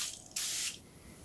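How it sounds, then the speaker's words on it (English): A short burst of cleaner sprayed inside a motorcycle helmet, a close, bright hiss lasting about a third of a second against quiet room noise. "quickly spray this inside your helmet instead of taking the pads out"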